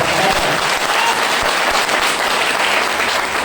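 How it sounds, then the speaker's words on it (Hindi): A large audience at a motivational speech by Mahaveer Saharan claps loudly and steadily, a dense, continuous roar of applause lasting the whole stretch with no voices over it. "ताली जोरदार बजा दीजिए"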